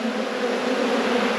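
Honey bees on a hive frame hum in a dense, unbroken drone, a close and steady buzz of many wings with no break and no voices.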